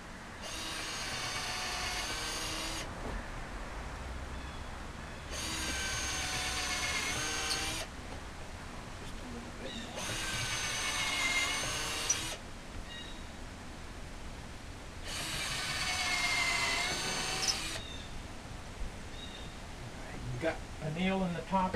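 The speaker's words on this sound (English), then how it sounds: "Of course we got a pre-drill into the 2x6 only." A power drill pre-drills pilot holes into a 2x6 for a shed door casing, with four separate whining bursts of a few seconds each, set apart by pauses and someone talking.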